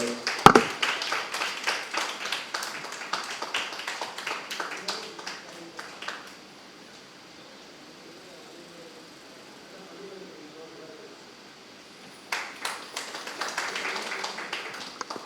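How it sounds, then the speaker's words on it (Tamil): Audience clapping at an honouring ceremony, with brisk, sharp claps at the start that fade into a quiet stretch and then a second burst of clapping near the end. "உங்களுடைய உற்சாகமான கைத்தட்டலோடு"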